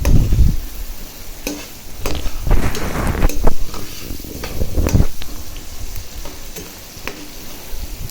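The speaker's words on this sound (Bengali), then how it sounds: "এখন পেঁয়াজটা ভাজতেছি" Onion fries in a pan after fish, a close, uneven sizzle with bursts of scraping and stirring that swell and fade, plus some handling noise at the start.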